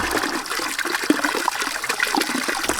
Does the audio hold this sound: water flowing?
yes